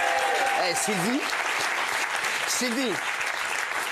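A television studio audience breaks into sustained applause, a dense wash of clapping that continues throughout while a host speaks over it.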